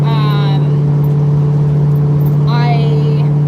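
A 1968 Ford Mustang Fastback cruises along with a steady, loud engine drone and a constant low hum throughout, with rising whines at the start and end of the drive.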